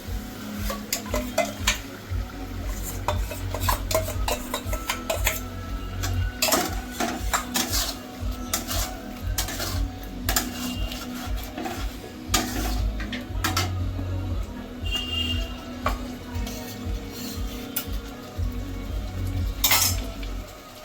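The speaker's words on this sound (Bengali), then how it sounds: "এই মশলাটাকেও ভালো করে একটু কষিয়ে নিতে হবে যতক্ষণ তেলটা না ছেড়ে দেবে" A spoon scrapes and clatters against a pan while a ground paste of melon seeds, cashews and poppy seeds with yogurt is stirred and fried for cauliflower roast, giving repeated close metallic knocks over a soft sizzle, with no talking.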